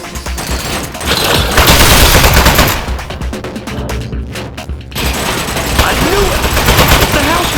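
Turret gunfire in the game Aperture Desk Job: rapid automatic bursts, loud and close, pausing briefly midway before resuming, with a voice talking over the shooting.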